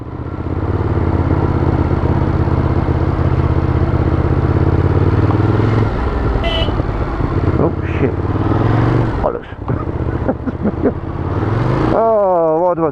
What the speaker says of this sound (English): Ducati Monster 821.